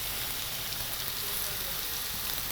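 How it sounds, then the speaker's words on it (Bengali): Onions lightly frying in oil for a curry, a soft steady hiss of sizzling fat, faint and even, with no voices. "বাকি পেঁয়াজটা আমরা দিয়ে দিলাম এটাতে আমাদের তরকারিটা হবে একটু ভাজা ভাজা করে দেবো"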